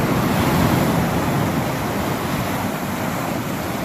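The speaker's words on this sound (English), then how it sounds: "look how high those waves are" Rough, high waves on a lake surge and break in a continuous loud wash, with wind buffeting the microphone throughout and no talking.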